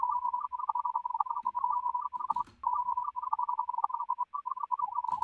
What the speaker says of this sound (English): Just want to make a sound for this small flying robot or whatever it is on the side.